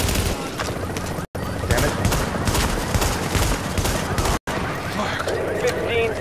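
Dense shotgun and automatic gunfire in The Division's Dark Zone, a loud continuous barrage of blasts packed tightly together with two brief dropouts.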